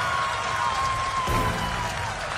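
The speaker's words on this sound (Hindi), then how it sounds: "तालियों की ये गड़गड़ाहट सुनिए।" Applause from a crowd of scientists at ISRO celebrating the Chandrayaan-3 lander touching down on the Moon, a dense steady clapping wash heard somewhat distantly under a faint steady tone.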